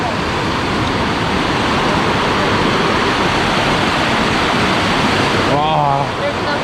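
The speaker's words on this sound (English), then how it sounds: "Melendez River. It will flow down to Cauca River." The Melendez River in the upper hills of Cali, Colombia, rushes with a loud, constant wash of flowing water, close and steady throughout, with a brief voice near the end.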